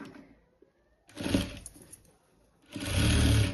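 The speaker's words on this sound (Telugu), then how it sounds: "దీనిపైన ఒక స్టిచ్ కార్నర్కి వేసుకుంటున్నా" Sewing machine stitching the corner of a princess-cut blouse front, two short bursts of motor whir and needle chatter separated by quiet pauses, close and moderately loud.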